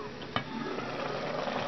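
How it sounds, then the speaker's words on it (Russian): A steady bubbling, buzzing hum from a rice cooker runs throughout, with a brief sharp click early on; no voices. "Прошло 10 минут, рисоварка работает, вот у нее какое меню, она булькает, издает какие-то звуки, жужжит"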